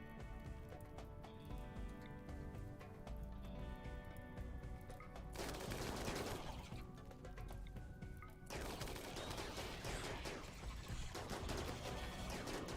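Rapid gunfire and repeated explosions rattle through a RimWorld raid, dense bursts of shots giving way to heavier booming blasts that come in waves and fill the whole stretch.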